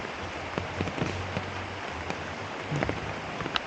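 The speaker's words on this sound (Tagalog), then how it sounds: "biglang bumuhos yung ulan dito kaninang" Steady rain pours down with a dense hiss, scattered drops tapping nearby surfaces and a low rumble underneath.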